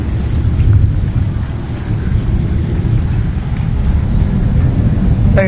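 A steady rain shower over a garden of fruit trees, with standing water on the ground and a deep, constant rumble like thunder. The sound stays even and dense throughout, with scattered drop patter.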